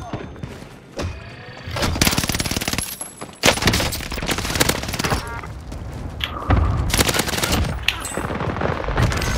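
Automatic gunfire in Call of Duty on Rebirth Island, with long rapid bursts, booming hits and shattering sounds, loud and near, with a short gap of quiet between volleys and speech partly mixed in.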